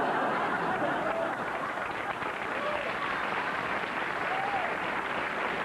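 Studio audience on a 1996 talk show claps continuously, a dense sustained applause with scattered chuckles and voices mixed in throughout.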